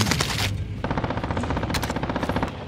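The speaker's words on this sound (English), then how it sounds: "Somebody shooting nearby?" Nearby automatic gunfire in a Call of Duty match, loud rapid bursts of shots in a steady rattling rhythm with a short pause after the opening burst.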